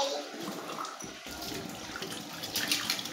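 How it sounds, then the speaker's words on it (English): Hot water runs steadily from a household tap, a continuous close splashing rush that swells slightly toward the end, with no one speaking over it. "The water coming out from the tap is really, really warm."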